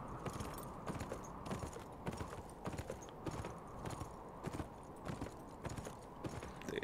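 Quick, rhythmic hoofbeats of a galloping horse in the video game Beyond: Two Souls clatter steadily throughout, fairly close, with no talking.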